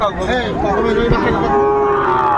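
Cattle low repeatedly at a busy livestock market where Sahiwal bulls and calves are being bought and sold, the drawn-out moos close and loud over a steady background of crowd noise.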